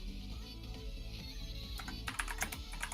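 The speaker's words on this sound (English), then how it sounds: "your keyboard is not ASMR clicky clack" Clicky computer keyboard typing during an online game session, a steady run of rapid key clacks heard alone with no talking, growing sharper and more pronounced toward the end.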